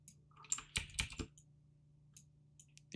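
A few quick taps on a computer keyboard, a short cluster of crisp clicks near the start followed by a couple of faint isolated taps, close and quiet over a low electrical hum.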